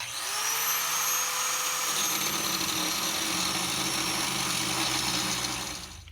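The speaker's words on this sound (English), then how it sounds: "I'm going to go ahead and just grind off the head of this bolt" An angle grinder cuts off the head of a truck bolt. It gives a loud, steady, high-pitched whine that holds for several seconds without a break and then tapers off at the end.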